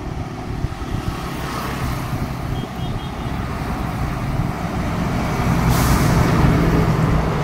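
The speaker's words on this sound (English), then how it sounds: "lot of lorries are crossing." Lorries pass close by on a road, heard from a bicycle as a continuous heavy engine roar that swells gradually, with a brief hiss like an air brake near the end.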